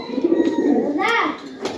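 A Teri pigeon in a Rajshahi highflyer loft gives a soft, close coo, with short throaty warbles over a brief moment of quiet loft noise. A voice can be heard faintly.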